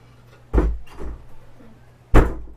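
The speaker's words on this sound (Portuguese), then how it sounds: "Quem é que tá abrindo a porta, gente?" A door swings open with nobody touching it: a dull thump, a softer knock and a faint rattle, then a second sharp thud close by.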